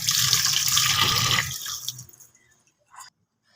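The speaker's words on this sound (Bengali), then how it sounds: "এখন আমি দুইগুলো মাছ ভালোভাবে ধুয়ে নেব" Pabda and koi fish being rinsed under a running kitchen tap, a steady close splash of water for about a second and a half that breaks off into a few scattered drips and a short final trickle, with no talking.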